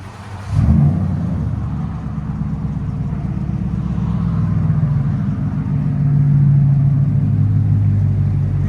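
A 2013 Ford F-150 with a 5.0L V8, true dual exhaust and Netami NTR racing mufflers fires up abruptly into a loud, deep exhaust rumble that holds steady and swells slightly, with no talking.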